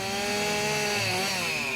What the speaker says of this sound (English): To imitate a hurricane on a tiny scale, we need a big chainsaw.